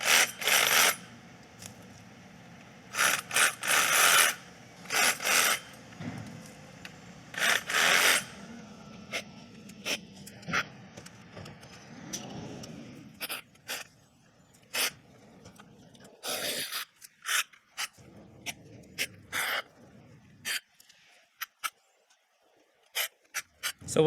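Branches of a palo verde tree being pruned, working upward from the bottom, giving a long run of sharp, close cutting snips and rasps in irregular clusters with brief pauses between them.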